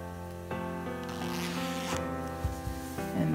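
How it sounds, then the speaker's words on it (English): A zipper is drawn closed on a newborn baby sleeper, giving a soft, close rasp with a few short pulls and handling rustles, no talking. "So you're gonna close up your zipper."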